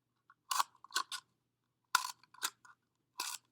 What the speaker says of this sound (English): So what I like to do is just take my scissors and cut little lines